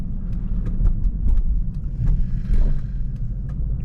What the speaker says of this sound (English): Look at all this traffic.